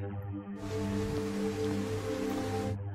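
Steady rain pours down in a historical kingdom drama scene, a dense, even hiss that starts abruptly and stops just as sharply, laid over a low sustained musical drone.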